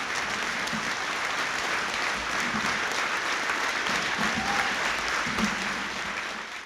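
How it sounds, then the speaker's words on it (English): A school assembly audience at Carroll High School claps in a loud, sustained round of applause for a distinguished alumnus honoree, dense and even throughout before tapering slightly at the very end, with no talk over it. "how about a huge patriot round of applause for Carroll High School's newest distinguished alumnus, Mr. Michael P. Osgood"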